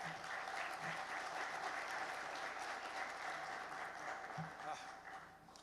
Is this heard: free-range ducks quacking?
no